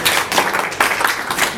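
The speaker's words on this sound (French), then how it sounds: "on applaudit pour l'ami." Classroom applause for a pupil: a short, loud burst of many hands clapping close by, rising and falling in quick waves for under two seconds.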